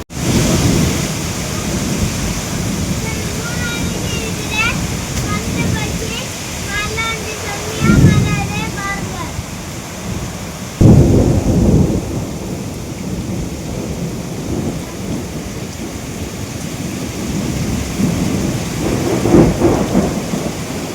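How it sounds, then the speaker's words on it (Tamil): A strong storm with heavy rain and gusting wind roars steadily throughout, with deep rumbling bursts of thunder near 8 and 11 seconds and again toward the end, while a voice speaks faintly beneath. "ஐயோ பயங்கரமாக இருக்குது காற்று. வானம் வேறு மின்னது, பயமாக இருக்குது."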